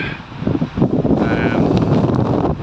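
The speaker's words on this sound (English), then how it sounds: "Sorry about the wind, it's after picking up quite bad." Steady wind buffets the microphone in a broad, rumbling roar that swells and holds, loud and close, with no clear speech, while felling Leyland Cypress trees outdoors.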